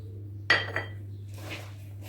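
Vegetable seekh kebab mixture of salt, garlic, ginger, chili, coriander, cornflour and gram flour being stirred in a bowl: two close clinks of a utensil against the dish, then a soft scraping, over a low steady hum.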